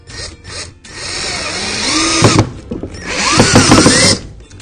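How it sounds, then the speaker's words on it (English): A power drill drives the final screws into a wooden floating shelf unit, with two loud bursts of whirring and grinding separated by a short pause, close and alone with no talk. "we're driving in the final screw here, then we're ready to put in the bottom piece"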